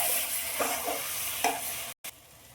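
Spinach paste being stirred through spices in a pan for rohu fish with spinach. A steady sizzle runs under a few scraping spoon strokes, and it breaks off abruptly near the end before resuming briefly.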